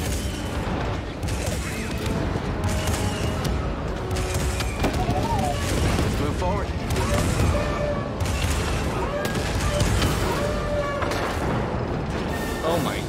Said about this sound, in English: So that fires the cannon.